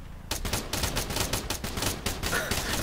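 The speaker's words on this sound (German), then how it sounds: "Dann schieß ich gleich mit." Sustained gunfire fills an Arma 3 Altis Life scene, a dense run of rapid automatic shots cracking one after another at a steady, loud level with no break.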